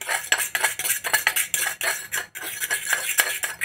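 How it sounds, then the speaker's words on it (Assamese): A metal spoon scrapes and clinks against a bowl while stirring and smoothing homemade curd, a quick irregular run of close scraping strokes with no talk. "এইখিনিও ধুনীয়াকৈ চামুচখনেদি মিহি কৰি লওঁ"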